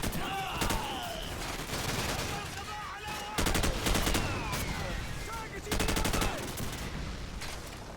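Bursts of gunfire from the Call of Duty: Modern Warfare campaign level Charlie Don't Surf, with rapid automatic volleys and a few heavier blasts over battle noise and faint talk.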